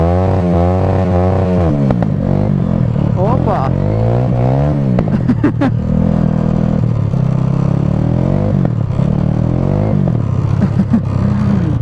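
Motorcycle riding on snow in mid-January, its engine revving and shifting pitch up and down close by with clattering, while someone talks loudly over it.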